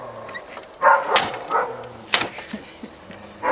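Several dogs bark in short, sharp bursts, with yips and whimpers between them, at moderate distance on a cold morning after two of them got into a scuffle.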